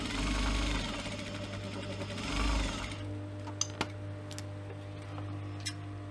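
A sewing machine hums and stitches a divider into a cosmetic pouch pocket, with two louder bursts early on, then stops, leaving faint clicks and ticks close by.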